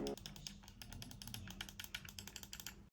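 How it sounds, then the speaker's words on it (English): Rapid run of small, light clicks from the ABXY face buttons of a Gamesir Cyclone 2 gamepad, pressed repeatedly at close range with a soft, slightly spongy tactile snap, steady and uninterrupted with no talking. "It's got a bit of a spongy feel with a small tactile click at the end."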